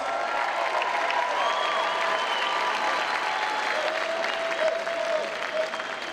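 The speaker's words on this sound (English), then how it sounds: "A round of applause." A crowd at a Legends Football League championship game applauds steadily and loudly throughout, a dense, continuous wash of clapping with faint cheering mixed in.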